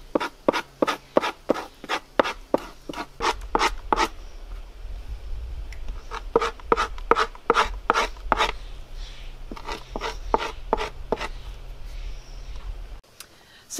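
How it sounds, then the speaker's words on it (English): In brain tanning, a dull scraper works a hide in repeated rasping strokes, close and fairly loud, in a steady rhythm of roughly one or two scrapes per second over a low background hum. "another very important technique is scraping very thoroughly the first time"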